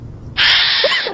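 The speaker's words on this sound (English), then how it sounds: "Screech owls?" A screech owl calls once: a harsh, drawn-out screech lasting under a second, breaking in after a short stretch of near-silence, close and fairly loud with no one talking.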